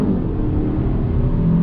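A 2021 Hyundai Elantra N Line accelerates on throttle out of a right-hand bend, its engine a steady, close, rumbling drone heard from inside the car.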